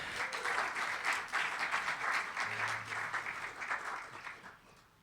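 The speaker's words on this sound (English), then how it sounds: "Let us give Mr. Paul Lawrence a warm round of applause and welcome" Audience applause welcoming guitarist Paul Lawrence at a winter artist showcase, a steady crowd-wide clapping that holds strong for several seconds and then eases off near the end.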